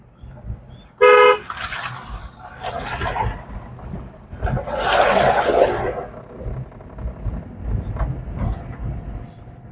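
A single short car horn blast sounds close by, followed by steady engine rumble and road noise.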